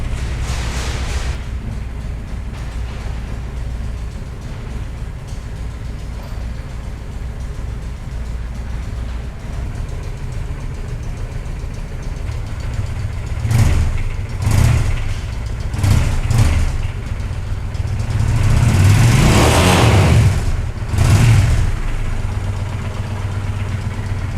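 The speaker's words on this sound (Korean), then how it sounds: "시동 걸어보도록 할게요" A Honda Shadow 750 motorcycle with 49,800 km on it idles close by in a steady, even low rumble that lifts slightly near the end, with no talk over it.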